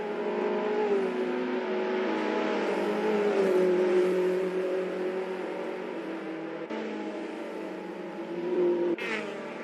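Race car exiting the pits on medium tyres in Assetto Corsa, a steady close engine drone with a whining tone that rises and falls, plus a couple of sharp clicks near the end.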